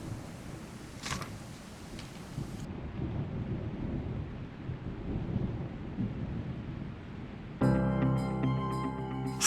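Thunderstorm rolling across the open Saskatchewan prairie, with a steady low rumble of thunder and rain noise throughout, and a sharp crack near the start; a burst of music cuts in at the end.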